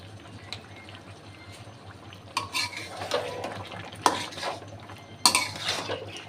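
Cooked bottle gourd being stirred with cumin powder in a pot, with a low steady hum beneath and a few clattering spoon-against-pot scrapes and knocks that grow louder toward the end.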